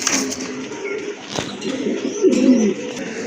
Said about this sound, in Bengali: সুন্দর একটা পেয়ার বুক সাদা কবুতর।